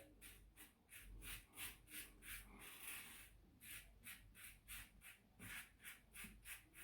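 Wilkinson Sword Classic safety razor, a very mild blade, shaving with cold water and soap; a steady rhythmic scraping of repeated short strokes, close and fairly quiet, with no talking.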